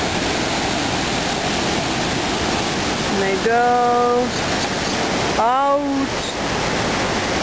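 A waterfall along the Road to Hana in Maui gives a steady, loud rushing roar that fills the scene, with people talking and a few brief tonal calls over it.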